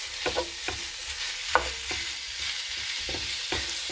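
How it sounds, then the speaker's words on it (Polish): Beef frying in a pan with a steady broadband sizzle, broken by several sharp clicks and scrapes of a utensil stirring the meat; close and fairly loud, no talking. "Na patelnię wrzucę wołowinę."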